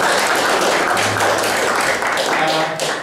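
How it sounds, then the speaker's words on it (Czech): An audience at a Czech economics talk claps steadily, a dense wash of hand claps filling the whole stretch and tapering slightly near the end. "Myslím, že bychom měli oběma poděkovat potleskem"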